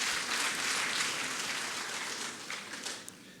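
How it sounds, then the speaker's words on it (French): An audience applauds the President of the French Republic at a parchment-presentation ceremony in Abidjan, Côte d'Ivoire, a dense, steady wash of many clapping hands that thins slightly toward the end. "On applaudit le président de la République."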